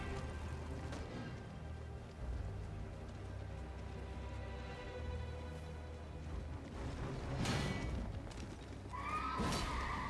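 A horse neighs within Elden Ring game action, with hoof-like clatter and low rumbling throughout, plus a bright whinny and sharp hits near the end.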